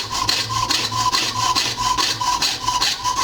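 Jeweler's saw cutting metal at a goldsmith's bench, a loud, close, steady back-and-forth rasping stroke repeating at an even rhythm, alone with no talk.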